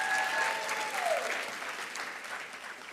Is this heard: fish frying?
no